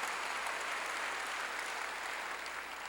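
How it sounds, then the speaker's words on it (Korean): Church congregation clapping during a sermon, a dense, even wash of many hands, fairly distant and soft, steady throughout with no voices. "박수 치라"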